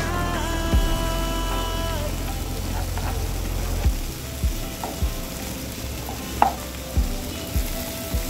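A vegetable fry sizzles loudly and steadily in oil in a pan, with a constant frying hiss and occasional clinks and scrapes of stirring, heard up close.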